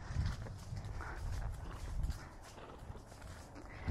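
A horse trots on the ground, close and fairly quiet, with rhythmic hoof thuds and clip-clops repeating across the few seconds.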